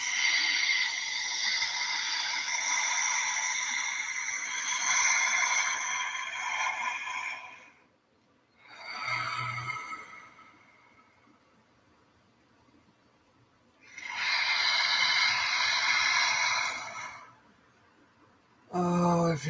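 Deep, slow breaths drawn in and let out through the mouth, heard close and fairly loud as two long airy breathing passages with a shorter breath between, without any talking.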